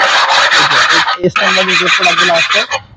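Stone scraped firmly across a ceramic stone-body wall tile in repeated rough rasping strokes, loud and close, with a brief pause midway before the gritty rubbing resumes.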